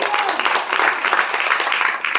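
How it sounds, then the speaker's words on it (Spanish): A church congregation applauds during a Spanish-language sermon, a brief burst of dense, fairly loud clapping from many people filling the hall. "Denle un aplauso al Señor Jesucristo."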